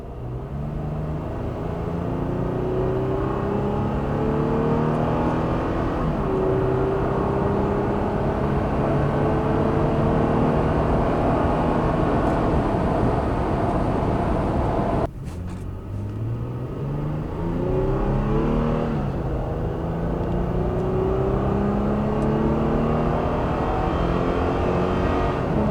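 A 2020 Gen 3 Toyota Tacoma with a KD MAX tune accelerates hard, the engine climbing through repeated rising sweeps as it shifts. There is a brief break midway, then the pull resumes, steady and close.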